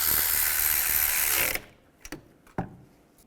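A ratchet tightens a nut on the exhaust manifold of a Chevrolet Trailblazer, first in a loud, rapid run of clicking, then a few slower, isolated clicks and clunks close by.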